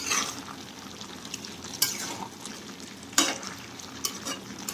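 A vegetable curry of cauliflower, carrot, potato and paneer is stirred in a pan over gentle frying, with a spoon scraping and knocking against the pan several times at irregular moments.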